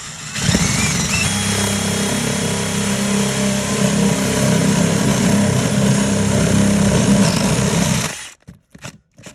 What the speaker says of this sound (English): get yourself a drill, a spade, line up, give or take.